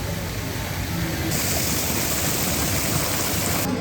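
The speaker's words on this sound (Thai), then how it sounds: "แม่น้ำปิงอยู่ด้านข้างนะฮะทุกคน" Ping River water flowing alongside a riverside khantoke dinner venue, a steady broadband rush like a stream or small waterfall, continuous and fairly loud with no voices.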